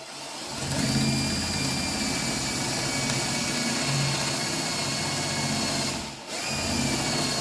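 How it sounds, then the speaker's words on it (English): A power drill runs close and loud in a steady whir through a hole in wood, guided by a dowel jig, pausing briefly before starting again. "now with my drill I can do the hole"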